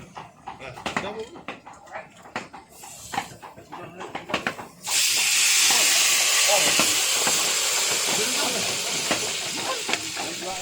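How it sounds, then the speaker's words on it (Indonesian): Food for a traditional dish cooked during a Balinese Ngaben cremation ritual drops into hot oil and a loud, steady sizzle erupts, continuing as a bright hiss after some earlier clattering and background noise. "suara minyak goreng panas yang telah diisi sesuatu yang digoreng telah terdengar"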